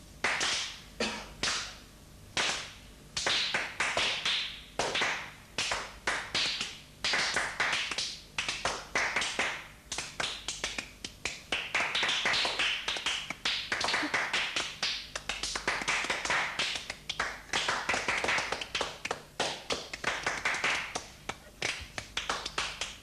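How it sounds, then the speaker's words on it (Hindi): Rapid, repeated hand claps in quick bursts, loud and close, continuing at an uneven rhythm for over twenty seconds. "मैं आवाज करता हूं ताली से, आप करिए।"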